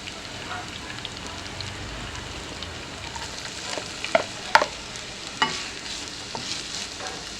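Four finely chopped onions sauté over a medium-high flame, hissing softly while a spoon stirs and scrapes the pan in several sharp, irregular clicks.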